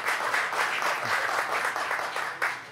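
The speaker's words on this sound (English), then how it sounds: "Those claps." An audience at a pool match, an 8-ball invitational, bursts into steady applause, moderately loud and sustained throughout, with no talking.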